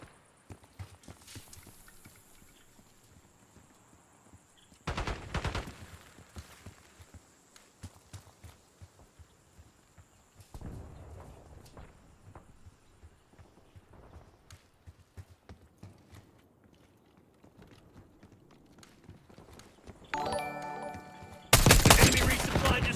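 Bursts of video game gunfire: loud volleys around five seconds in and again near the end, with scattered shots and muffled clatter between them, and no voices over the firing.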